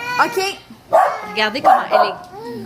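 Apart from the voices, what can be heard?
dog barking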